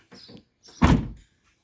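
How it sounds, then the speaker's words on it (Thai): A door on an Isuzu NKR120 six-wheel truck swings shut with a single solid thunk, preceded by a few faint rattles of the handle and latch, close by with no talk. "ประตูกับปิด"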